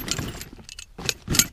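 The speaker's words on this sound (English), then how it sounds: "Here are the keys for the locking pin." A small set of keys for a locking hitch pin jangles near and loud in a toolbox setting, with short metallic bursts clustered at the start and again near the end.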